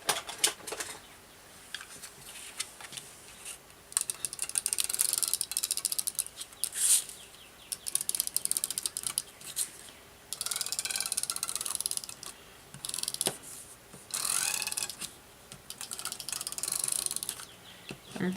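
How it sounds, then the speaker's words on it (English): A double-sided tape runner laying tape during a paper craft: repeated ratcheting, clicking rolls in short bursts with quiet pauses between, close and fairly loud. "I'm just going to take a double-sided tape runner."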